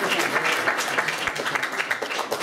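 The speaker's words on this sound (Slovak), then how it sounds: "to si zaslúži ešte raz potlesk" Audience at a Slovak awards ceremony breaking into loud, sustained applause, a dense crackle of many hands clapping for a couple of seconds.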